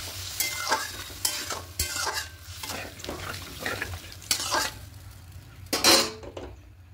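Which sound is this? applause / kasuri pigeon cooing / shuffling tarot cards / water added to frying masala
water added to frying masala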